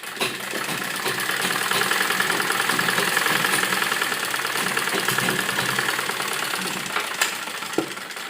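A sewing machine stitches a seam down the middle of folded fabric for a frock, its motor running in a steady, close mechanical whir with a fine rhythmic chatter and no pauses.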